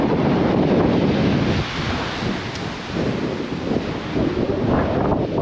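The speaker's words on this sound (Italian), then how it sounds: "guardate le onde come si rifrangono, gli spruzzi dell'acqua salgono sopra la scogliera" Atlantic waves break against sea cliffs on Ireland's Wild Atlantic Way as heavy wind buffets the microphone, giving a loud, rushing roar with surges and dips and no voices.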